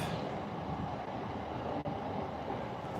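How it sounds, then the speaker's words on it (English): Inside a nearly empty moving train in Japan between Ikebukuro and Kumagaya, a steady, moderately loud rumble fills the carriage with broadband rolling noise and a brief dip partway through. "you guys can hear the ambiance of the train"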